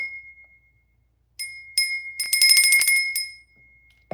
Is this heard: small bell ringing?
yes